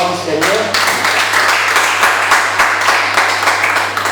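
A church congregation applauds in steady, rhythmic clapping that fills the room, with a constant low electrical hum beneath it.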